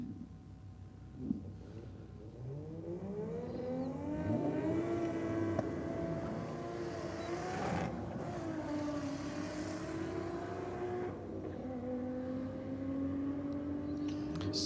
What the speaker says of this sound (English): two nice side-by-side burnouts